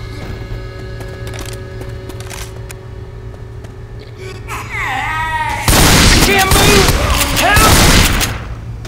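Rapid bursts of incendiary gunfire in a zombie shooter, a loud sustained volley erupting after quieter ambient game noise and a brief whooshing effect, continuing for several seconds before cutting off.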